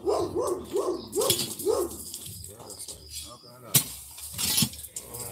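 A dog barks several times in quick succession near a vinyl fence installation site, then a few sharp sounds follow while people talk over the scene.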